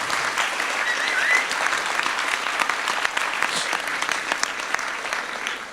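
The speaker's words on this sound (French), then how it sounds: "Merci de l'applaudir." Steady applause from a sizeable audience, dense clapping that holds at an even level throughout.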